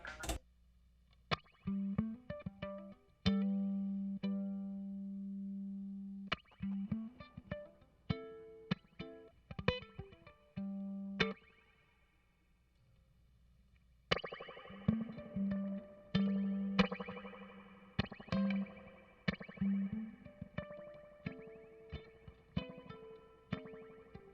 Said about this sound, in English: I'm going to send it through this mixer's spring reverb